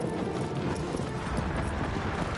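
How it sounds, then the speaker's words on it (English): Horse hooves clip-clopping in the video game Shadow of the Colossus: a dense, continuous galloping patter, loud and close, with no pause. "Okay, horse. Don't be an idiot."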